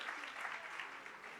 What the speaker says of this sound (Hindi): ज़ोरदार तालियां जिंदा खुदावंद यीशु मसीह के लिए।